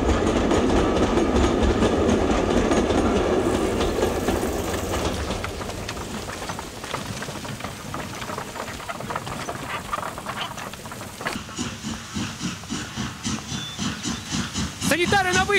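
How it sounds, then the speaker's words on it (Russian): A train rolls in loudly with hissing steam and rhythmic clattering of wheels that gradually slows, ending with a squeal of brakes. "Поезд прибывает!"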